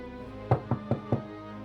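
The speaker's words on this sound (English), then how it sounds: "there was a knock at my door" Four sharp knocks on a door in quick, even succession, close and clear against a quiet, low background hum, with no talking.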